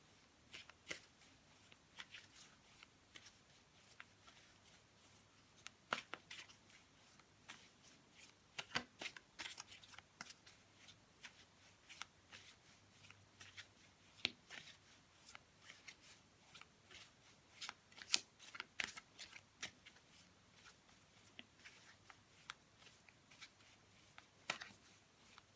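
Tarot cards shuffled by hand in a quiet room, with soft riffling and irregular sharper snaps of the cards, close and fairly faint, running steadily throughout with no one speaking.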